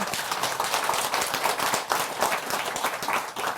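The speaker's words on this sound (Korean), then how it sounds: "격려의 박수 한번 치고 갈까요?" Audience applause at a Buddhist dharma lecture: dense, steady clapping from many hands, fairly close and continuous for a few seconds with no talk over it.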